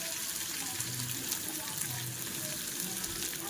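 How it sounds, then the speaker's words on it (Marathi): Sliced rounds of bitter gourd dropped into a spoonful of hot oil with mustard seeds and cumin, giving a steady close sizzle and crackle of frying with no talk throughout. "1 चमचा तेल, त्याच्यात राई, जिरं तेल पूर्ण तापून द्यायचं. नंतर कारली सोडली."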